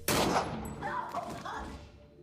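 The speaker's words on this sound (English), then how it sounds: "When Lucas voices his unwillingness, they shoot him dead." A loud burst of film gunfire erupts at once and then fades through a rolling, reverberant tail of further shots and rumble.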